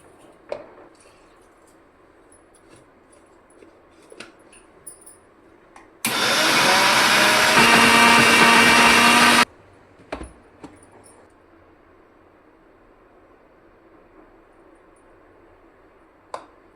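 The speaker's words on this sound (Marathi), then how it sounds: "अशी सगळी डाळ आपण आता दळून घ्यायची" A mixer grinder runs in one loud continuous burst of about three seconds, grinding soaked urad dal with a little water into a fine paste for papad, between quiet kitchen handling noises.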